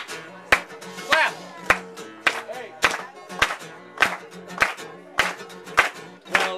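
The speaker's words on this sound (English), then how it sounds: "Clap." At a performance during a Ciroc cocktail-hour event, the audience claps along in a steady beat, with sharp, regular claps about every half second over the band's country-flavored music.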